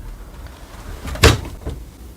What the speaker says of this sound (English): Lift up the ink access door by the indicated handle.